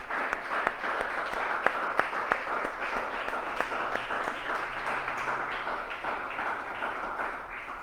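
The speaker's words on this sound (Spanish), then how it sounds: "Démosle un aplauso al Espíritu de Dios." Congregation applauding in a church service, a steady dense wash of many hands clapping throughout with a few sharper nearby claps standing out, no talk over it.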